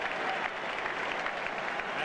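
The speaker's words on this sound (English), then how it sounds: "listen to the applause still ringing around the stadium for that wonderful moment from Matt Burke" Stadium crowd at a 1996 Tri Nations rugby match between New Zealand and Australia applauding steadily, a dense, sustained wash of clapping from many hands filling the whole stretch without a break.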